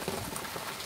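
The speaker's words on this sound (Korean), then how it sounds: "어제부터 내린 비가 오늘까지 계속 이어지고 있어요." Steady rain falls continuously, a dense even hiss of drops striking surfaces, close and uninterrupted, with no voices present.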